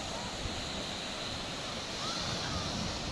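Surf waves roll onto a busy surfing beach at Polzeath, Cornwall, a steady broadband wash of breaking water mixed with wind buffeting the microphone, continuous for about three seconds with no clear talk.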